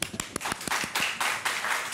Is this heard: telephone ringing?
no